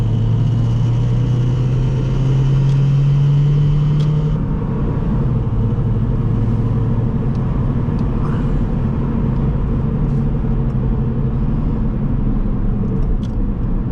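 A 2003 Subaru Impreza Wagon engine accelerates on a test drive, a loud close rumble with a steadily rising tone that peaks, then settles into a sustained droning cabin roar with road noise.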